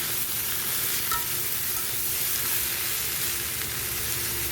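Bottle gourd being stirred with spices in a hot pan, a steady loud sizzle with continuous scraping and mixing throughout, close and unbroken.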